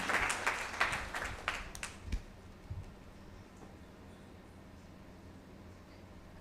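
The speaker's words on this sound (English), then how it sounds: "A round of applause, please." An audience at a symposium claps in a brief burst of applause that fades out within about two seconds, leaving quiet room noise.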